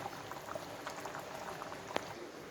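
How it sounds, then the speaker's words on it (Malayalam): Quiet, steady bubbling of a thick liquid simmering in a pot, with small pops now and then. "ഇപ്പോൾ കറി നന്നായി തിളച്ചിട്ടുണ്ട്"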